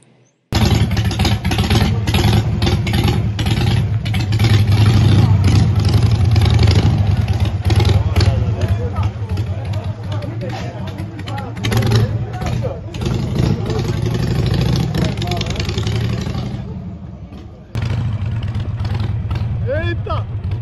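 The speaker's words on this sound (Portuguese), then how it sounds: "Eu dei um rolê numa moto... Chopper, uma 883," Customized Harley-Davidson 883 chopper motorcycle being ridden, its engine rumbling and revving loudly and close for most of the ride, easing briefly before picking up again, with someone talking over it.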